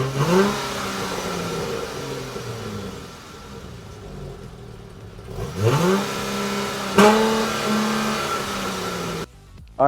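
A 2022 Dodge Challenger GT's 3.6-litre Pentastar V6 exhaust revs up several times with rising engine tones between idling stretches, loud and close, no talking.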